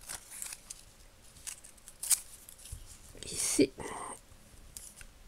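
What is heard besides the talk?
scissors cutting paper strip for scrapbook embellishment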